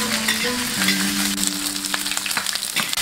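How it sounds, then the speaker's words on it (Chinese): Braised beef pizzle tossed with green and red peppers, scallion, ginger and garlic in a hot wok over a wood fire, giving a steady close sizzle and fry with scraping stirs of the spatula, no talking. "再来爆炒，"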